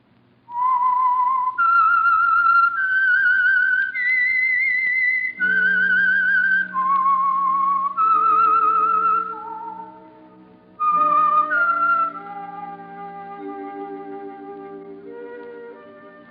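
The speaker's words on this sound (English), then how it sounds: "That whistle is your signal" A clear, loud whistled melody of long held notes, the theme of the radio program The Whistler, followed by a softer accompanying tune underneath.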